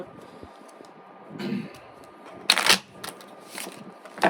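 Tarot cards being shuffled in a few short, uneven bursts, close by, with soft handling noises between them and no talking.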